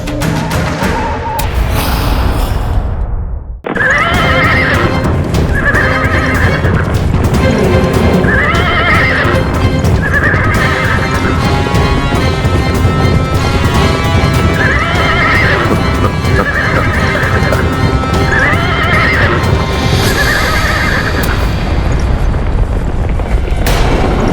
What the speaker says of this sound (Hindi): रथ की गड़गड़ाहट रुक गई।